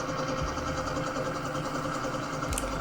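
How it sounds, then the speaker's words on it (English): A high-speed 36V 250W CY brand electric bicycle hub motor spins at constant speed, giving a steady, even hum with a faint whine and no talk over it. "So this is the high speed motor coming with 36 volt to 50 watts"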